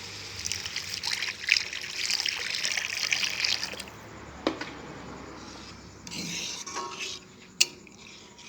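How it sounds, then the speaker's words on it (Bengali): Water is poured into a pan of fried turmeric, coriander and cumin: a few seconds of close, splashy pouring hiss, then quieter bubbling with the occasional clink of a spoon against the pan. "এবার পানি দিয়ে দেবো।"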